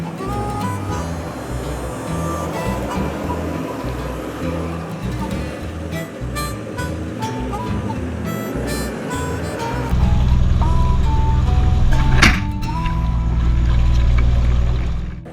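A Land Cruiser 4x4 engine labours up a muddy hill, a loud continuous drone that deepens and swells in the second half, with a sharp knock near the end.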